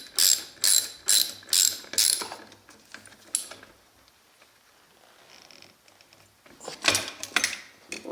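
A ratchet clicks in several quick bursts while tightening down the second clutch on a TMR performance motorcycle clutch upgrade, with a pause of faint mechanical handling before another brief burst of clicking near the end.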